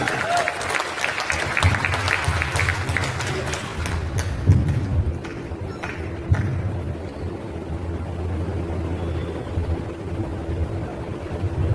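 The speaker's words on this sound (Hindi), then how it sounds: "एक बार जबरदस्त तालियां, जबरदस्त तालियां" A crowd at a gathering in Maihar applauds loudly for several seconds, the clapping then fading into a steady background rumble with a few thumps.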